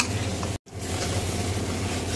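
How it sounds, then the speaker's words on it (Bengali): Mutton pieces sizzle and fry with spices in a karai while being stirred. The sizzle stays steady and close, with a brief cut to silence early on. No one speaks. "ভালো করে মশলার সাথে পিসগুলোকে কষিয়ে নেব।"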